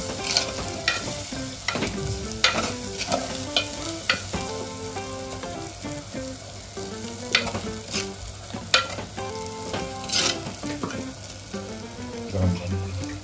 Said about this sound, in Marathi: शहाजिरे खोबर शहाजिरे तीळ धने आपले अख्खे काढून कांदा भाजून घ्यायचं का सगळं?